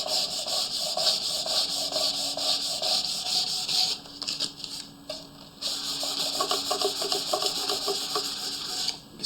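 Sandpaper rubbed steadily over a wooden guitar body to roughen it before varnishing, a close, continuous scratchy rasp with brief pauses and shifts in stroke partway through.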